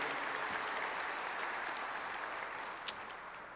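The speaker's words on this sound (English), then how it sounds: "Can we give them a round of applause?" Audience applause for event servers at a port commission address: steady, moderately loud clapping from a sizable crowd, sustained evenly throughout with one sharp louder clap near the end.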